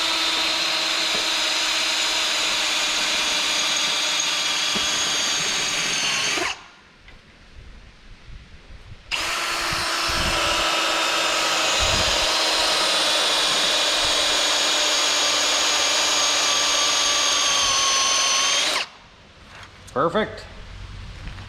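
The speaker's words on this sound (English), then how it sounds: "the drill bit starts squeaking, starts talking to you" A power drill whines steadily into the metal of a Chevy 5.3 LS LM7 engine in two long sustained runs with a pause between, and talk is heard faintly during the break.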